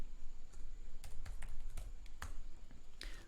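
Keys tapped on a computer keyboard while entering a git branch name, a quiet, irregular run of light clicks in short bursts, close by with no talking.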